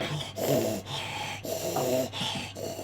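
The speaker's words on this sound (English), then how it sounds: "normally you'd have to pay for this kind of heavy breathing" Heavy, rhythmic breathing close to a microphone, with about four noisy breaths spaced roughly evenly, snorting and wheezing in texture and alone without speech.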